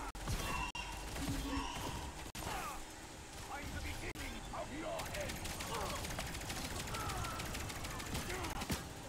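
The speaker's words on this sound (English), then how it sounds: "My gun actually stuck on fire then. I couldn't release fire." Nonstop automatic weapon fire from a jammed gun in the game LawBreakers, a steady rattling stream of shots mixed with game effects, fairly faint, with a player's voice talking over it.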